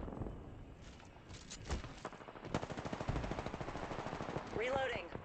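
Rapid bursts of automatic gunfire in a competitive shooter video game, dense and fairly close, crackling on and off throughout with a voice briefly audible over it.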